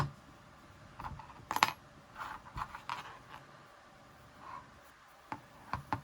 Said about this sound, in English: So I'm just going to take my scissor, trim that end.